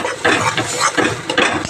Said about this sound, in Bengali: এটা এখন ভালো করে টানাতে হবে, একদম শুকনো শুকনো করতে হবে।